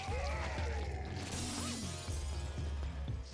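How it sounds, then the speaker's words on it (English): Glass shattering in the video game Killing Floor, a loud crash with tinkling shards scattering for a few seconds, set against a steady low in-game hum. "Yeah, just break the glass,"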